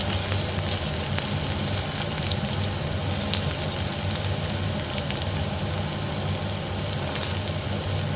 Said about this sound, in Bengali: দেখো, তেলটা আমার গরম হয়ে গেছে। এবার আমি পেঁয়াজটা দিয়ে দিচ্ছি।